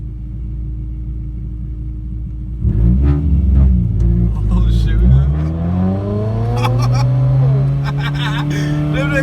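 A big-turbo Audi and a Camaro RS rev their engines in a deep, loud rumble that swells and climbs steadily in pitch, with a man exclaiming over it.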